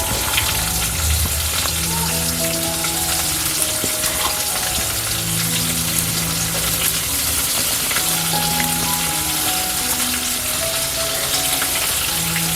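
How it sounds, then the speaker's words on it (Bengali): Chopped onion frying in hot oil in a pan, a steady close-up sizzle with crackling pops running continuously, with faint tonal background sounds underneath. "পেঁয়াজটা একটু ভাজা ভাজা হলে"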